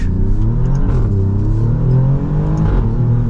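A 2024 Alfa Romeo Giulia Quadrifoglio engine accelerates hard, a loud, continuous close-up roar whose pitch climbs, dips briefly, then climbs again, with no talking.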